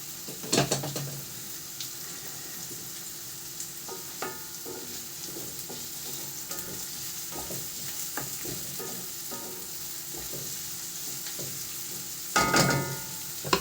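Food stews and fries in a new frying pan, a steady close sizzle running throughout with a few brief clatters of utensil against the pan near the start and end.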